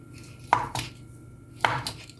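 A knife slicing food on a cutting board: two crisp pairs of quiet strokes about a second apart, close up, with no talking.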